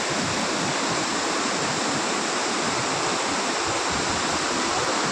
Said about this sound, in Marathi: धबधबा बघा किती उंचावरनं कोसळत आहे